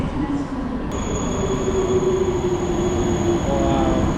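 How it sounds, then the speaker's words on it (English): Al Boraq high-speed train in Morocco, heard from onboard as a steady, loud rumble of rolling wheels and car noise with a high whine running throughout. "here it is, the fastest train in all of Africa."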